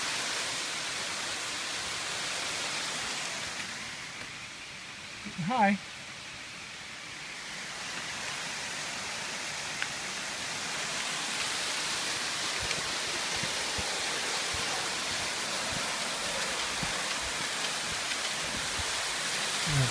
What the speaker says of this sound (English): Oh, there's a third waterfall too, which is the biggest